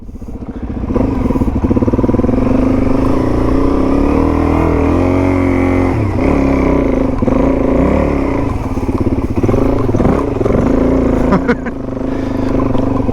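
Suzuki DRZ400E and DR650 adventure motorcycles ride off-road up a washed-out dirt track, their single-cylinder engines droning loud and steady with shifting revs, a rattling mirror and clattering over rough ground, and riders talk over it.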